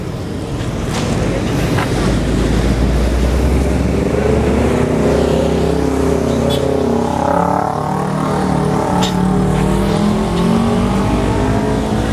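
Big vehicles move along a dusty main road beside a building demolition, giving a loud, close, continuous rumble of engines and tyres with no voices.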